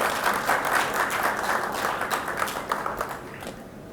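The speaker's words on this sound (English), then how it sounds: "Big round of applause." Applause from the audience at a Jio True 5G launch event, a dense wash of many hands clapping that stays loud and steady throughout, with scattered individual claps standing out near the end.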